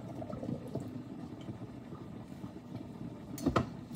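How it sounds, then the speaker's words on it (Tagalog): Binignit, a Visayan coconut-milk dessert, bubbling and simmering in a pot, soft irregular blips and gurgles close by, with a brief louder burst near the end. "Ang sarap pagmasdan yung kumukulo-kulo na guys."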